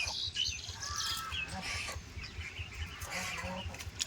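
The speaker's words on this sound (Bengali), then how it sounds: "এদিকে আরো অনেক হাঁস আছে" Ducks in and around water on a village pond, eating leaves, give irregular squawks and calls at moderate distance over a steady rustling background, with no talk.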